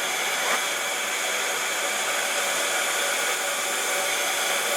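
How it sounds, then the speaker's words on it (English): A heat tool blows steadily for nearly five seconds, heat-setting embossing powder for an emboss resist craft; a constant, even rushing hiss like a hair dryer, close and alone with no talk. "And then I am going to go ahead and heat set this."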